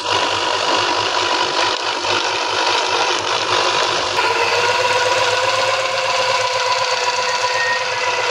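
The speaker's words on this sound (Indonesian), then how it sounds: "Kita blender ya teman-teman sampai halus." A blender grinding fish into fine fish meal for high-protein duck feed, a steady loud motor whir with rattling that runs unbroken throughout and shifts slightly in pitch partway through.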